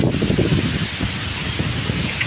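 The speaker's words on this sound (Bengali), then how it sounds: "বাতাস, চরম বাতাস আছে" Strong wind buffets the microphone in a low, rumbling roar that stays steady for the whole moment.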